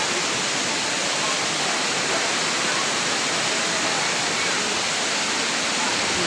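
Parkhan Falls in Abra pours with a loud, constant rushing roar of falling water that fills the whole stretch without a break.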